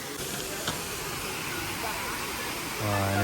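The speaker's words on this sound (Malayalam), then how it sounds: "ഒരു വെള്ളച്ചാട്ടം കാണാം." A waterfall at the Ellora caves in Maharashtra sends up a broad, steady rushing hiss close by, continuous throughout, with a brief tonal hum rising near the end.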